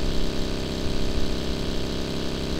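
Motorbike engine in the video game BGMI, a loud, steady droning hum that holds at an even pitch throughout with no talking over it.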